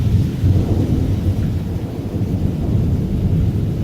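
Severe summer thunderstorm in Newburg, Pennsylvania: loud, deep rolling thunder rumbles continuously over steady rain, with a dense low roar filling the whole stretch.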